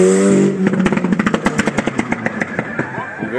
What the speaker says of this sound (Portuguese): bora agora com a puxada do Helder, da sua S3 4 cilindros, 4x4, contra o Ricardo Roque